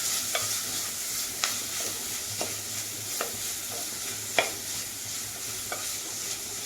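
Tomato and ginger sauté in a pan for a bitter gourd masala curry, a steady soft sizzle broken by regular spoon taps and scrapes against the pan roughly every second, no voices.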